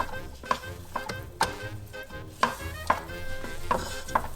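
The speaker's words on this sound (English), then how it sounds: "I'm going to scrape the sides of the bowl" A spatula scrapes hazelnut cookie dough from the sides of a mixing bowl, giving a run of about ten sharp scrapes and knocks at an uneven rhythm, close up, with no talking.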